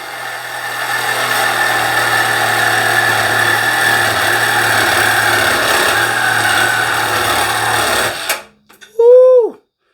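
Milwaukee M12 Fuel and Makita CXT 12-volt cordless hacksaws run in a head-to-head cutting race: a loud, steady buzzing motor drone holds for about eight seconds, then cuts off abruptly, followed by a short burst of voice.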